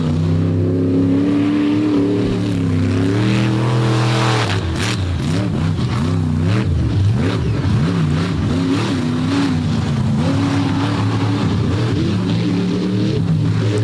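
Monster truck engine revving hard during a freestyle run at Bloomsburg, loud and continuous with rising and falling throttle sweeps throughout, no talk.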